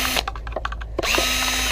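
A handheld power drill runs in short bursts on discarded electronics during a residential e-waste pickup, a steady close whir broken by a brief pause and then resuming loudly.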